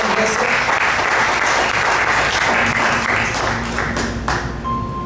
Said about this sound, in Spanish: Denle un aplauso bien fuerte al Señor, iglesia.